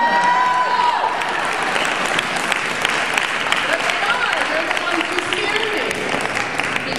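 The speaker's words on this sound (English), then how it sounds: "And I was expecting some claps on that one." An audience at a marijuana law reform conference bursts into loud, sustained applause, dense clapping filling the whole stretch without letting up.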